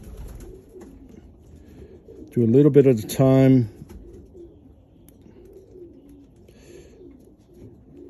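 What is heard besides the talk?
pigeon cooing while held for show grooming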